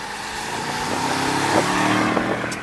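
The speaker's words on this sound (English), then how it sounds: "The classic AMG V8 rumble, downsizing, turbocharging, it still sounds amazing." A 2019 Mercedes-AMG S63 Coupé with a twin-turbocharged V8, set to Sport Plus, rumbles loudly and steadily with a deep engine drone held close by, with no talking.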